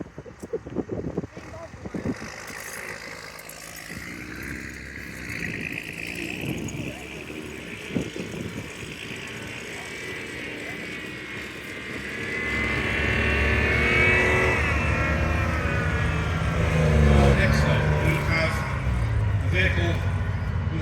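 A Piranha multi-purpose military vehicle drives at an outdoor tank museum, its engine a steady rumble that swells louder and closer in the second half, with people talking over it throughout.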